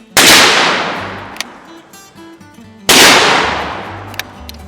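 Two very loud, close shots from a high-powered handgun ring out about three seconds apart, each a sharp blast followed by a long, fading outdoor echo.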